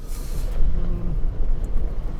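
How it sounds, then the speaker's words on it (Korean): A 2022 Chevrolet Tahoe in four-wheel drive with off-road mode engaged rolls over a light unpaved road, a steady low rumble of engine and tyres with faint rattles throughout. "자, 이번에는 가벼운 비포장기를 달려보고 있습니다."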